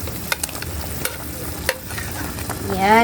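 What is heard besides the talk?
onion and long chili added to boiling pan, sizzling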